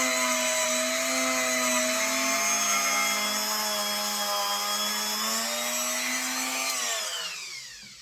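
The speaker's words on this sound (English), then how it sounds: "I'm going to give them a clean with the brass wire brush on the rotary tool" A rotary tool with a brass wire brush whirs at a high, steady pitch while cleaning metal model train wheels, loud and close, then winds down as it switches off near the end.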